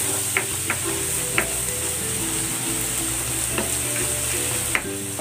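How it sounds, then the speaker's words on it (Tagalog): Garlic frying in cooking oil for a beef dish, a loud, steady sizzle with scattered stirring scrapes and clicks of a utensil against the pan throughout. "Iprito muna natin itong bawang."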